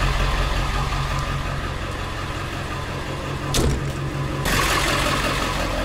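An ambulance's diesel engine idles with a steady low rumble throughout, briefly rising in a short rev, then settling back into a continuous drone.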